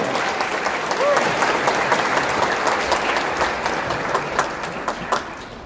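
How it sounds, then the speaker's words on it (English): An audience applauds the children at a Kosovo Independence Day celebration in New York City, a dense sustained wash of clapping from a crowd, fairly close and loud, fading slightly toward the end. "Let's give a round of applause to the children of the Eagle"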